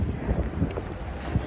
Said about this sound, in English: it's cold and windy out here